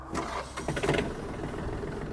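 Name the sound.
Yanmar RS-270 mini tractor engine starting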